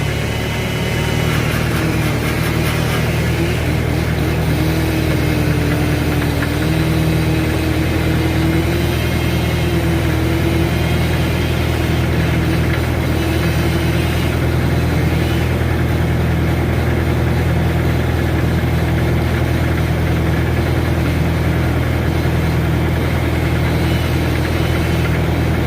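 Vehicle engine in Ottawa, Kansas, throttled up slightly to drive a winch, a steady close mid-pitched drone with a faint rise in revs and constant vibration throughout, with no talking over it.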